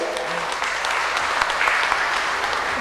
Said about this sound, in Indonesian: tepuk tangan dulu untuk mereka ya